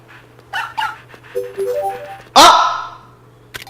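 A virtual puppy in the Nintendogs video game yips and whimpers in short bursts, followed by one louder bark-like cry, over quiet electronic game tones and a steady low hum.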